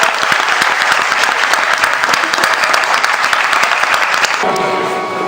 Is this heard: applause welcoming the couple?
yes